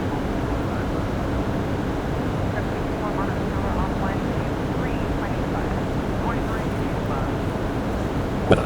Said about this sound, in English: That's why we barely hear the engines.